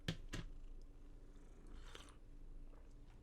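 A house cat purrs softly and close up, a faint low rumble with a few small rustling clicks and bumps scattered through it.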